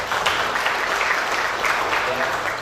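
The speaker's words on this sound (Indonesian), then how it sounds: "Tepuk tangan untuk Jambi." Applause at a police press conference in Jambi, loud and close, a dense wash of clapping for under three seconds with voices mixed in.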